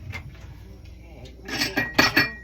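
A small dish picked up and set down among kitchen things, giving a few close clinks and clatters of crockery near the end, with a soft voice heard earlier.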